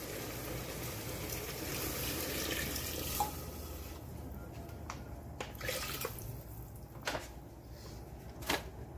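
Hot water poured into a pot of braised beef with cassava and tomato sauce, a steady splashing pour with a few sharp drips and clinks, fairly close and alone.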